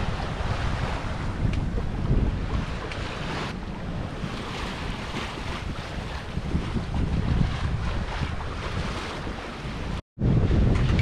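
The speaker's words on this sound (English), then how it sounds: "You can hear the engines on." Boat engines run steadily at sea as the sun rises on a sailing voyage, a continuous low rumble blended with wind buffeting the microphone and water rushing past the hull, with a brief dropout near the end.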